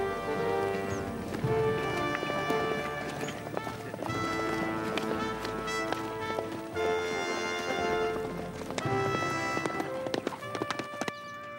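Horse hooves clip-clop in a steady trot in the 1997 period drama Sharpe's Waterloo, running for several seconds under a swelling orchestral score.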